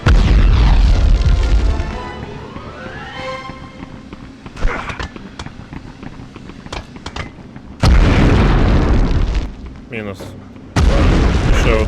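Grenade explosions in the World War II shooter Medal of Honor, with two heavy, loud booms several seconds apart amid scattered gunshots and clatter, and someone talking over the action.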